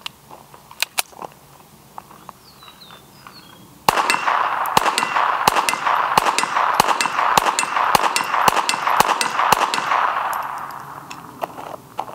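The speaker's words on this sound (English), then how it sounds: "I got a steel target right over here at 25 yards." A Volquartsen Scorpion fires a magazine at a steel target 25 yards away; a dozen or so sharp shots each answered by a bright metallic clang, in a quick, irregular rhythm with a ringing tail.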